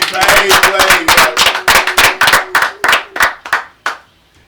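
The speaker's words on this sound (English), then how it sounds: "A big round of applause for my boy Wade is in the building." Loud, close clapping in a studio welcomes a guest: roughly fifteen sharp, rhythmic claps in near unison, gradually spacing out and fading, with a voice faintly underneath.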